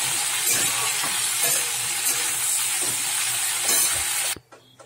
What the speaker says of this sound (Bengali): দিয়ে ঢ্যাঁড়সটা চাপা দিয়ে একটু ভেজে নেবো